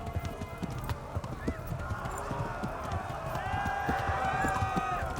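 Horse hooves pound in a fast gallop while riding in the medieval video game Kingdom Come: Deliverance, a steady rapid clip-clop with game music and a voice over it.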